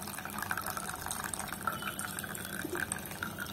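Cooking water is poured off boiled chickpeas through a strainer, giving a quiet, continuous splashing and trickling with small gurgles throughout.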